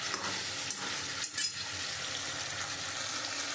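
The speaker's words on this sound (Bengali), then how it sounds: "আমি পটল দিয়ে আমি একটু ভালো করে একটু কষিয়ে দেবো।" Pointed gourd (potol) with green chilies sautés in oil in a pan, a continuous broad sizzle with a brief scrape of stirring partway through, close and steady with no talking.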